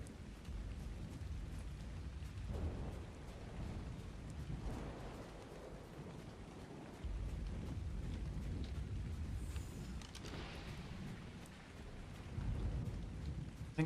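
Stormy weather in the survival game Monarky: Bloodtide, with steady rain hissing and low rumbling thunder rolling underneath, swelling louder around the middle and near the end, with no talking.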